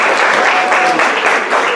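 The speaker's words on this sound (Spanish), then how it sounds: "Señores, demos un fuerte aplauso." An audience at a hospital academic session applauds, giving dense, sustained clapping throughout with no voices.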